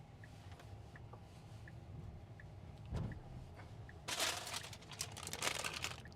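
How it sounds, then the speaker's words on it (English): Paper crinkles close to the microphone while someone eats inside a moving Tesla Cybertruck, with a few soft rustles early and a louder burst of crinkling toward the end over low cabin road hum. "Sorry for the paper noise"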